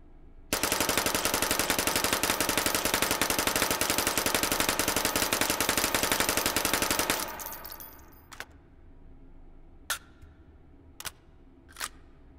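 An open-bolt 25 ACP submachine gun in Hot Dogs, Horseshoes & Hand Grenades rattles off a long, rapid unbroken burst for about seven seconds, followed by several sharp, isolated single shots with pauses between them.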